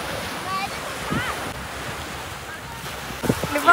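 Gentle sea waves at a swimming beach wash softly against a backdrop of wind noise on the microphone, a steady low surf with a few louder splashes near the end.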